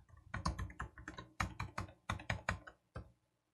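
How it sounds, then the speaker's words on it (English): A password is tapped out on a computer keyboard in quick, uneven bursts of crisp, close keystrokes, with a short pause before a final few presses. "And I'll type in the password that I would like it to have."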